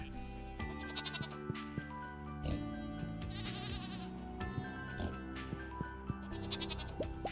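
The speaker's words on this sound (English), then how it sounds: "Hello, sheep." Sheep in Stardew Valley bleat repeatedly over a busy layer of game music and sound effects, the calls quick and clustered, fairly close and moderately loud.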